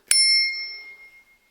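A cheap thumb bell on an ENGWE P20 lightweight folding e-bike gives one sharp ding, close and bright, its metallic ring fading out over about a second with nothing else heard.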